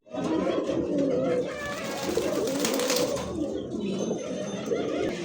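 A pair of White Indian Bombai pigeons coo close up in soft, repeated throaty calls, with some rustling and a brief voice in the background.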